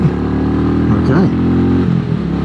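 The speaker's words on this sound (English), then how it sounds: "It's a lovely note. Great sound to that exhaust." Royal Enfield 350 motorcycle exhaust while riding on a road, a steady low thumping engine note with a short rev swell in the middle, heard up close alongside a talking rider.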